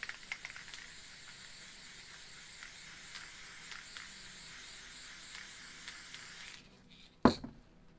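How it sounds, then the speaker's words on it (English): White spray paint hisses in a continuous steady spray onto a piece of card for several seconds, then stops abruptly, followed by a single sharp knock. "I'm just going to spray a bit more white on here."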